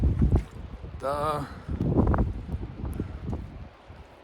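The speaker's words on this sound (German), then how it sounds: "Ich hoffe, man kann mich hören bei dem Wind" Wind gusts across the Ilsenstein summit, buffeting the microphone in uneven rushes, while someone speaks briefly over it and a short whistling tone cuts through.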